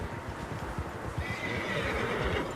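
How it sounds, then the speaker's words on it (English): Several horses neigh and whinny in Red Dead Redemption 2, with hooves clip-clopping underneath as a group of riders moves along; the calls are fairly close and fill the background continuously. "Horses, quite a few of them."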